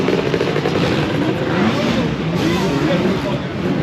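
A 2021 KTM 250 SX two-stroke motor fitted in a 450 motocross frame, heard as a steady, loud, close engine roar that stays dense throughout, with voices mixed in underneath.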